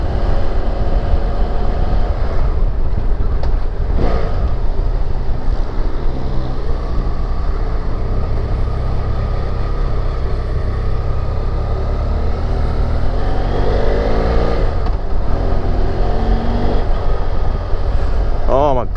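A BMW F 800 GS motorcycle is ridden on the road, its engine droning steadily and loudly with wind noise throughout, while a rider talks over it.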